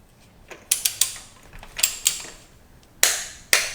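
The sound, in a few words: torque wrench ratcheting spark plug to 18 foot-pounds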